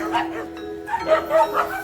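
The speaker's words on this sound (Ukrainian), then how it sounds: "Бігають, гуляють собачки." Several dogs, including young puppies, running about outdoors while playing, giving a few short yips and barks close by, with scuffling movement in between.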